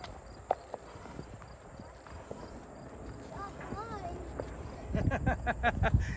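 On a trail ride near Deep Creek Lake, a few horse hoofbeats tap faintly, then thud more firmly and closer toward the end, over a constant shrill insect drone, with people talking.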